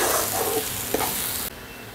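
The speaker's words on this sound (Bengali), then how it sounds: "সব দিয়ে আবার একটু কষাবো।" Spices with ground cumin, coriander powder and green chili paste being stirred and sautéed in a pan, giving a steady close sizzle with scraping stir strokes that stop abruptly partway through.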